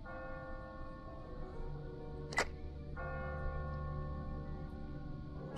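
A single church bell stroke rings out in The Walking Dead video game, a brief bright clang sounding once over steady low ambient music with no talk.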